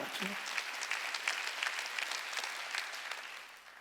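Church congregation clapping during a Sunday worship service, a dense, steady burst of many hands that starts abruptly, holds for several seconds and tapers off at the end, with no talk over it.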